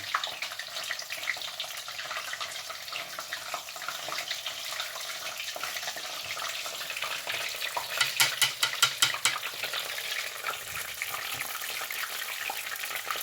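Tempura pieces fry in hot oil and are turned with chopsticks: a steady close crackling sizzle runs throughout, with a short burst of sharper clicks and pops partway through as the pieces are flipped.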